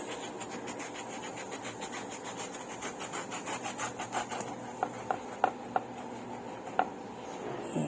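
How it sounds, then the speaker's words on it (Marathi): A knife slicing through a ripe mango, close rhythmic scraping strokes followed by a few sharp clicks as the blade meets the board, quiet with no talk. "हा बघा असा आंबा कट करून घ्यायचा"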